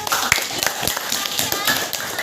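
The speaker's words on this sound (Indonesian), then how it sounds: "tepuk tangan" Children in a primary school classroom clap together in a quick, uneven patter of many small hands, with voices mixed in among the claps.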